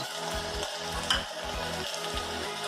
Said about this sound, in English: Now I'm going to add all these veggies. First carrot